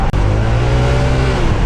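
A Honda ADV 160 scooter fitted with an upgraded JVT pulley set and clutch bell accelerates on a test ride, its engine a loud, close, continuous drone with one momentary dip.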